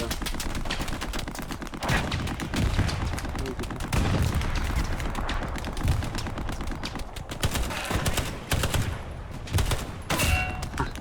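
Gunfire in a war video game: continuous rapid automatic bursts and scattered shots, loud and close, with thumps and explosions mixed in and voices talking over the battle.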